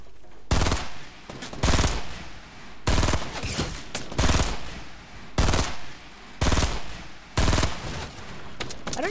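Gunfire in a Fortnite solo match: sharp, loud bursts of shots repeat roughly every second in a steady rhythm, with lighter game noise between them and no talking.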